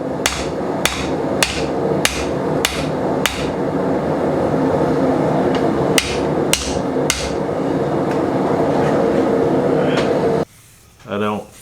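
A hammer strikes a piece of leaf spring on a new Vevor steel anvil, loud ringing blows landing in uneven clusters over a continuous background hum, then the blows stop near the end.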